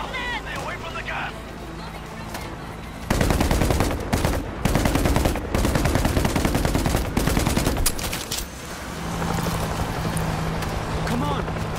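Automated turret gunfire in the zombie shooter World War Z, a dense, sustained rattle of rapid shots that starts after a few seconds of quieter sound and runs loud for about five seconds before easing off, with shouting voices mixed in.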